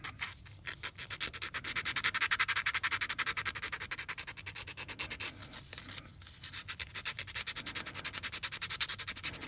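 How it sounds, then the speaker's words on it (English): Hand sanding on an aluminum prop shroud makes close, rhythmic back-and-forth rasping strokes, quick and steady, with a couple of brief pauses before the scrubbing resumes. "Just sand that down like that."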